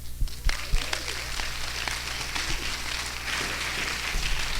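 Scattered audience applause at a community call gathering, a few sharp claps at first settling into a moderate continuous patter, with some voices faintly beneath.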